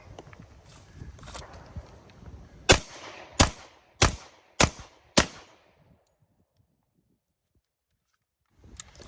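10mm pistol fired at a target 10 yards away: five sharp, loud reports ring out in quick, even succession, each with a short echoing tail, followed by silence and one more faint knock.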